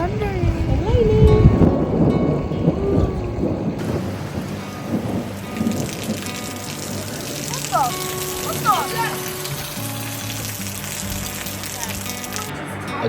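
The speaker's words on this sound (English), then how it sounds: "And thunder and lightning." Heavy rain pours steadily at an RV resort in Pigeon Forge, with rumbling thunder rolling through during a thunderstorm, close and continuous.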